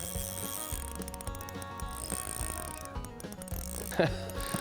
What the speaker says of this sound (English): Listen to this fish ripping this drag.